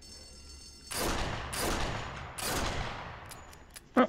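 Pistol fire at targets in the Sniper Elite VR game, heard as three or four sharp, reverberant shots spaced about a second apart, followed by a softer click and a louder mechanical clack.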